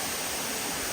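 A Bosnian waterfall rushes in a dense, steady roar of broadband noise, close and constant with no talking.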